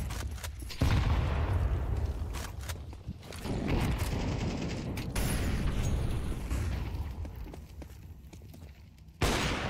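Dense, rapid gunfire and booming blasts from a Counter-Strike match, sustained bursts of shots layered over a rumbling low background, fairly quiet overall with a few sharp cracks standing out.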